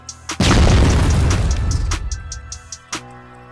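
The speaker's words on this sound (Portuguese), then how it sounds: "Olha a bomba!" In the video game CrossFire a bomb goes off with one loud, deep boom that rolls and rumbles for about a second and a half before fading, followed by a few sharp clicks and small pops.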